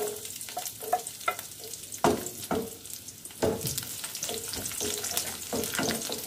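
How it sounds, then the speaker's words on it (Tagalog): Garlic and onion frying in a pan with a crackling sizzle, broken by repeated scrapes and knocks of a utensil stirring, several sharper hits in quick bursts, close and fairly loud. "I-fry muna natin. Lagyan natin ng sibuyas."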